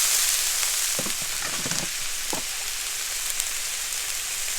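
Bok choy and bean sprouts frying in a hot wok for char kuey teow, a loud steady sizzle with a few brief scraping stir sounds early on.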